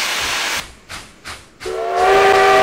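A steam locomotive in the Trainz 12 simulator vents loud bursts of hissing steam, broken into three pulsed puffs, then swells into a sustained hiss joined by a tonal steam whistle, close and with no speech.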